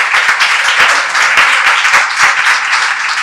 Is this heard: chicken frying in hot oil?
no